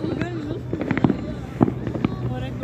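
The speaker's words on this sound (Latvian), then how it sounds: "Tur arī tālumā salūti." Distant New Year fireworks in a city, a scattering of muffled pops and bangs at irregular intervals, mixed with people talking nearby.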